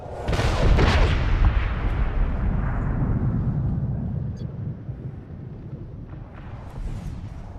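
Heavy bomb blasts strike a target in the Medal of Honor video game: a loud, deep explosion opens, then a long rumbling roar slowly fades over several seconds with faint debris crackle near the end.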